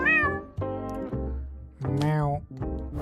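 A cat in the video game JudgeSim meows several times, with clear, drawn-out, separate meows and short pauses between them.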